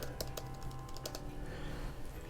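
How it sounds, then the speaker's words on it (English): Keys clatter on the butterfly keyboard of a 2018 MacBook Air, a handful of quick, light clicks in a short burst, then quiet, with no voices. "And it does have the butterfly keyboard."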